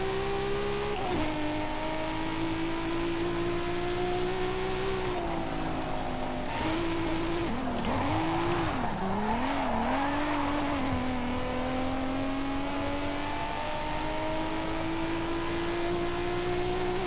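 A Ford Lightning pickup in Forza Horizon 5 revs hard and continuously, its engine note rising and dipping with a burst of tire squeal in the middle, loud and steady throughout.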